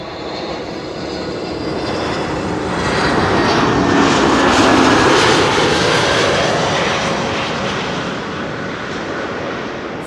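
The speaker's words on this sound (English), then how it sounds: "This is KLM A321neo flight 1002 arriving from London Heathrow." KLM Airbus A321neo landing at Amsterdam Schiphol after a flight from London Heathrow, a loud jet roar that builds to a peak around the middle as it passes close, then fades.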